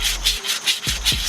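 Fine sandpaper rubbed back and forth over a metal wheel hub surface from a 2016 Nissan Maxima, giving about six loud, steady scraping strokes in an even rhythm, close up and with no talk.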